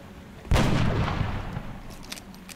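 A sniper rifle fires a single sharp, heavy shot in XCOM: Enemy Unknown, followed by a rumbling echo that trails off, with a few faint clicks afterward.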